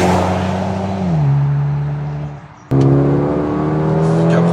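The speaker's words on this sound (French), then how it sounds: "Avec les valves ouvertes de l'échappement," A Mercedes A 35 AMG engine sings through open exhaust valves while driving, a loud steady drone that drops in pitch, fades, then returns abruptly with a fresh surge of revs after a shift.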